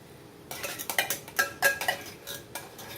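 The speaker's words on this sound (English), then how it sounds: "Let me stir that in." Warm milk and water are stirred inside a soup can, with a spoon scraping and clinking against the metal in a quick, uneven run of bright taps after a brief quiet start.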